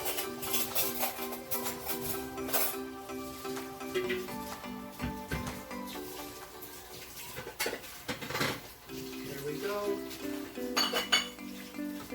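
A metal utensil clinks and scrapes against a pot of boiling shrimp as it's stirred, with irregular knocks and rattles up close and no one talking.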